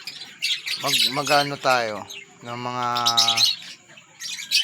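Lovebirds in an aviary squawk in loud, harsh calls of one to two seconds each, close by and mixed with sharp chirps, while someone talks in the background.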